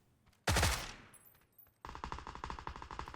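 Gunfire in the video game PUBG, one loud close shot or blast that decays into silence, then a rapid automatic burst of evenly spaced shots.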